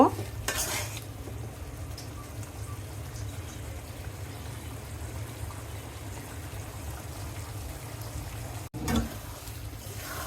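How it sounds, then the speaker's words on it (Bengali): Turmeric and chili powder stirred into oil in a pan for tomato mustard hilsa, giving a soft steady sizzle with a few louder scraping strokes near the start and end, close by and without speech. "দিয়ে এখন আমি মশলা ভালো করে একটু নেড়ে নিব"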